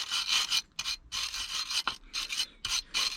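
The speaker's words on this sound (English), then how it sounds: "just going to clean up the area now" Brisk rasping scrubs clean an area near a bolt on a Mercedes W126 560SEL, close and fairly loud, coming in short repeated strokes with brief pauses between them.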